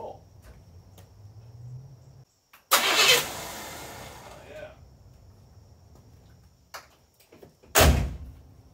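Engine of a 1984 Chevrolet K5 Blazer cranking over with a loud, whirring burst lasting under two seconds, followed by quieter rumbling, a couple of sharp knocks and a second short surge near the end.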